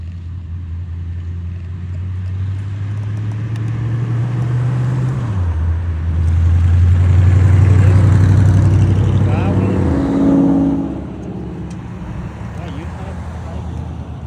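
Cars leave a car show one after another in a loud procession. Engine drones rise and fall as each vehicle pulls away and passes close by, with some revving and traffic noise. Voices can be heard faintly in the background.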